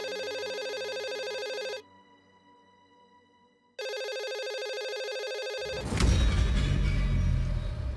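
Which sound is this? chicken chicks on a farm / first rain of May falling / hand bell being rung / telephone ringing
telephone ringing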